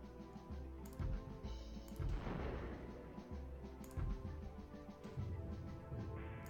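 Enemy gunfire in the video game StormWinds: repeated thudding, artillery-like shots and bursts at a steady rhythm, fairly loud, with no talk over them.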